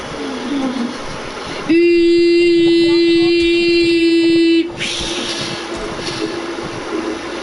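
A train in the Fortnite video game sounds a loud, steady horn-like tone for about three seconds over rumbling background noise, then the noise carries on alone.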